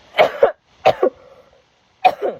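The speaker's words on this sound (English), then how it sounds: "I have to cough." Three separate coughs spaced over about two seconds, each a sharp double burst, close and fairly loud in a quiet room.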